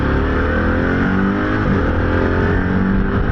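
Harley-Davidson CVO Pan America motorcycle with a quick shifter, its engine droning loud and steady while accelerating up through the gears, with a constant rush of wind noise throughout and no speech.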